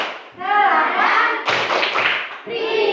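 Children at a lesson clap together in a rhythmic spirit clap, loud bursts of claps and taps mixed with voices calling out and an adult's voice.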